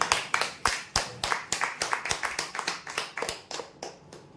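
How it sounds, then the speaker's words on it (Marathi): Clapping for children at a prize-draw event, a fast, steady run of close hand claps from a small group, fairly dry and evenly paced throughout. "जोरदार टाळ्या मुलांसाठी"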